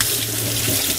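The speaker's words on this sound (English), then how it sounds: "Give your hands a wee wash." Hands rinse under a running tap during cake decorating, a loud, close, steady rush of water into a sink lasting about a second.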